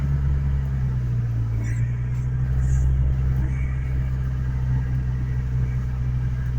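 A little red pickup truck stuck in mud rumbles with a loud, steady low engine drone that swells slightly as it revs, close by and with no voices.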